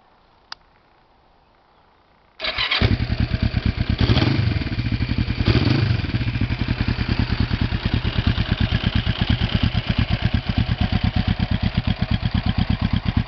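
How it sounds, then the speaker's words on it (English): A 1991 Kawasaki EN500 Custom motorcycle engine cranks and catches after a short quiet pause, then settles into a loud, steady, close idle with a rapid even exhaust pulse and a couple of brief rises in revs. "1991 Kawasaki EN 500 Custom."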